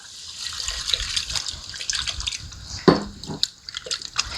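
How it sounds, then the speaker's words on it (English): Two cups of water pour into an Instant Pot of pinto beans with bacon and flour, giving a steady splashing, trickling stream with a sharper splash near the middle, close up and without talk. "Then we're gonna add 2 cups of water."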